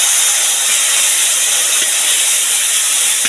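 Spice paste hitting hot mustard-style frying oil in a pan used for fried fish, with cumin and dried chili already in it, giving a loud, steady hiss and sizzle with no pause throughout.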